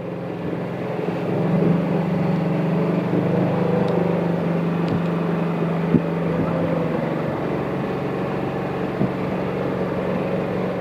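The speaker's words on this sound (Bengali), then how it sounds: "বেশ আস্তে আস্তে যাচ্ছে এই বোটটা।" A motorboat travels slowly along a river near a dam, heading into a narrow mangrove-lined creek, with a steady low engine drone that holds throughout, a few faint knocks and murmured voices underneath.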